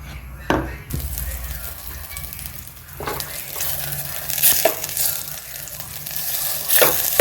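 Butter melting in a pan on a stove, a soft, steady sizzle with occasional clinks and scrapes of a spoon against the pot, fairly quiet and close.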